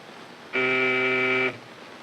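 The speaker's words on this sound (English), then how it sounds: "That's the buzzer." A single buzzer sounds for about one second, a loud, steady, harmonically rich drone in a 1929 Broadway musical film, starting and stopping abruptly against a faint background hiss.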